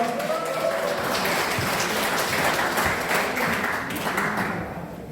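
Audience applause at a Daegu political rally backing a candidate, a steady dense wash of many hands clapping that holds for several seconds before fading slightly at the end.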